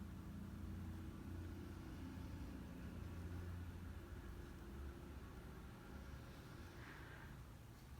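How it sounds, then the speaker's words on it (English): A truck passing outside, heard from indoors as a low, steady engine rumble with a faint whine, distant and muffled, lasting throughout with no talk over it. "That's a weird truck noise."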